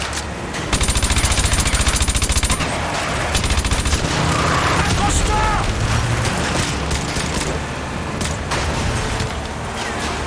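Rapid bursts of automatic machine gun fire in the Modern Warfare 2 Remastered video game, loud and dense with repeated volleys and in-game explosions and effects layered throughout.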